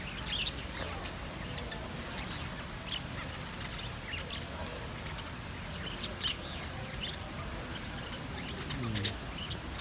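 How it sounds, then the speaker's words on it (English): Noisy budgies chirping among other birds, a busy mix of short high chirps and tweets at moderate distance, continuous with a couple of louder calls. "Oh, budgies. They're so noisy."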